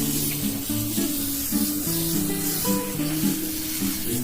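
Water spray washing the condenser coil of an Isuzu D-Max, a steady close hissing jet with a wavering tone behind it, continuous throughout.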